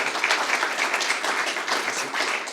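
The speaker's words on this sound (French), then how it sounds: "Donc on peut quand même applaudir Thomas pour sa présentation." An audience at a regional sales-excellence competition final claps steadily for a few seconds, a dense even patter of many hands at moderate volume.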